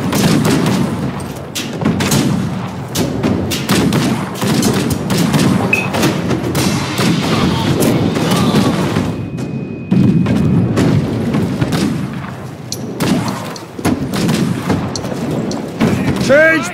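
Musket volleys crack again and again in Conqueror's Blade, a dense battlefield barrage of sharp shots and thuds mixed with clashing noise and shouted commands throughout.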